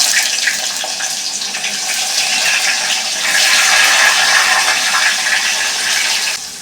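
Sliced onions dropped into hot oil with cumin on a gas stove, giving a steady, loud hiss and crackle that swells partway through and runs without pause.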